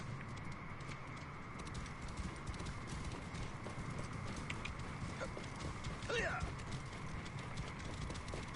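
Horses' hooves clip-clop in Assassin's Creed Origins, soft and continuous beneath a constant ambient game bed, with a brief brighter chirp-like sound near the end.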